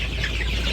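Chickens inside a village coop give soft, continuous clucking, close by and steady at moderate loudness with no talk over it.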